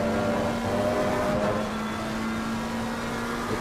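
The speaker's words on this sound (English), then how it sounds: "that car just sounds like it's sliding all over the place now" A race car in a sim racing endurance race at Suzuka drones with a steady engine tone while sliding, a continuous loud hum heard close and alone with no talk.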